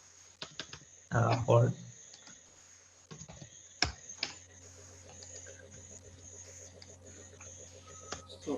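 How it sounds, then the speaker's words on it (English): Keys tapping on a computer keyboard as a website address is entered during an online talk on AI, ML and robotics, a scattered run of light clicks among brief voices and a steady background hum. "while you are typing in the creativelab.deepflow.ai"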